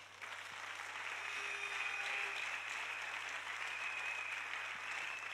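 A church congregation claps and cheers to welcome the prophet Steve Pignat, a steady, dense wash of applause that holds at an even level throughout.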